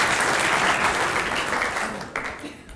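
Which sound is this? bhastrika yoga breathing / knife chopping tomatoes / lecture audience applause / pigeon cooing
lecture audience applause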